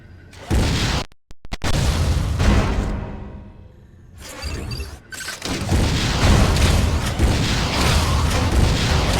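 A missile explosion in the Metroid: Other M video game: loud, booming blasts with a rushing whoosh, a brief drop to near silence, then sustained roaring rumble that fills the rest of the clip.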